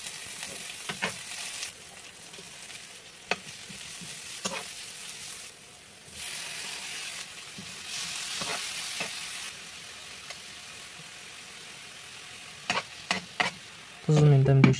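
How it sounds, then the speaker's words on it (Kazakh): Vegetables fry quietly in oil in a pan, a soft sizzle with scattered clicks and stirring knocks, and a louder clatter near the end. "Табаға май құйып, көкөністерді 5-10 минут қуырып аламыз"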